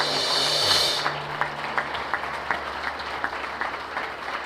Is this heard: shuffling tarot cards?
no